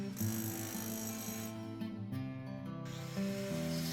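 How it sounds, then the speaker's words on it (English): A steady hiss of water spraying onto concrete to suppress dust at a spall repair site, continuous and fairly close, with a low mechanical hum underneath. "Notice how water is being used to spray in the location to prevent dust"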